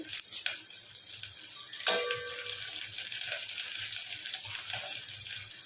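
Green chillies and curry leaves sizzle in hot oil in a pan while cooking drumstick rasam, a steady bright crackle running throughout with a brief sharper burst near the middle as the leaves go in.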